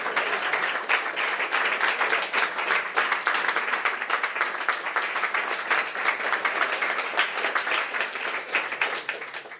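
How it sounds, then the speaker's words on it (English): A hackathon audience applauds the finalists, a long, even roll of many clapping hands that holds at a consistent level for several seconds before tapering slightly at the end. "let's get that another round of applause"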